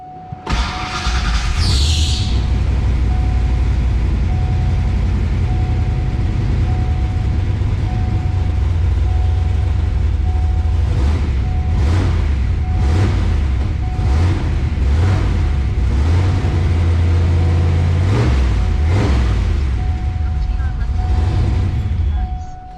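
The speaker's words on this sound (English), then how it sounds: "So now it's time to get the car running." Car engine running after a misfire fix with new NGK TR6 spark plugs, a loud low idle rumble that holds throughout with a few brief rises in revs.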